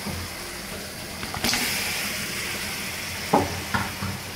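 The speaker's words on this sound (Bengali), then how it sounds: "এখন এর ভিতর কষানোর জন্য গোশত দিয়ে দেব।" Chicken meat, a country rooster for a spicy village-style curry, sizzles and is stirred in spiced oil, a steady frying hiss broken by a few louder scraping stirs near the end.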